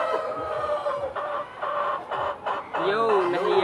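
Several chickens cluck and squawk close by in short repeated bursts, moderately loud, with a few murmured voices mixed in.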